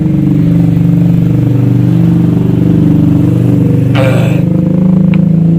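Motorcycles pass steadily along a road, their engine drone loud and close throughout, with one brief brighter rattle as a bike goes by.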